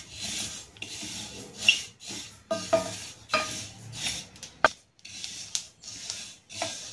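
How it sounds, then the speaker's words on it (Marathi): Sesame seeds dry-roasting in a pan over a slow flame, giving a continuous raspy rustle of seeds being stirred and scraped, with a few sharper clicks and crackles scattered through, close and fairly quiet. "तर आपल्या तीळचा जो आवाज आहे तसा चुटचुट होते"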